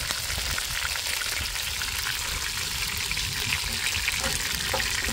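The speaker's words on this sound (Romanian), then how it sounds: "Puiul este prăjit, opresc focul acum și scot în tavă." Chicken fries in a pan with a steady, close sizzle and crackle, loud and continuous throughout with no talking.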